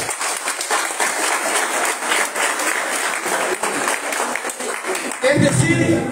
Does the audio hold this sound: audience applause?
yes